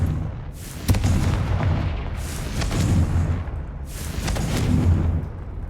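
Confringo spell blasts in Hogwarts Legacy land as repeated booming explosions, a sharp crack followed by rolling rumbles, three bursts spaced a couple of seconds apart.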